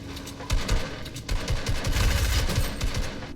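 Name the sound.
SMG gunfire in a video game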